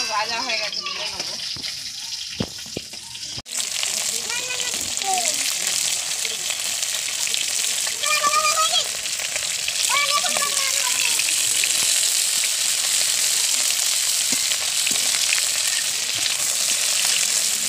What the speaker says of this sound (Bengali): মাছগুলো আমার ভাজা হয়ে গেছে, তুলে নেবো।